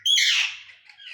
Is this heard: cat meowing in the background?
no